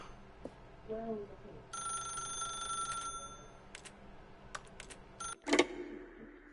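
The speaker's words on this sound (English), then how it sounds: "pick up the phone" A telephone rings in The Stanley Parable, a bright electronic trill lasting about a second, then short repeated bursts, with faint movement and clicks around it and a voice speaking briefly near the end.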